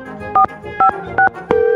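Telephone keypad tones dialing a number inside a Minecraft game, three short paired beeps at an even pace followed by a steady ringing tone, loud and clear with no talking.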